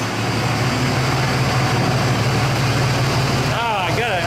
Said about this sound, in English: You hear that rattly old truck?